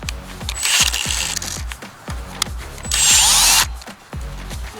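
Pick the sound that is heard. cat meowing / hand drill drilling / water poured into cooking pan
hand drill drilling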